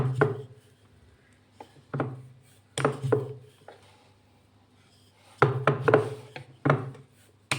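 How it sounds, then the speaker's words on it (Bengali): A rolling pin on a wooden board rolls out oiled, layered methi paratha dough. Repeated close, rhythmic rolling thumps and scrapes come in clusters with short pauses between them, and no one speaks. "যে এইভাবে বেলে নিলাম আবারও একই রকমভাবে আমি আরেকটা পরোটাও বেলে নেব"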